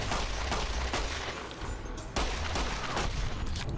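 Rapid gunfire from the video game Fallout New Vegas, a dense volley of loud, sharp shots rattling continuously with barely any pause.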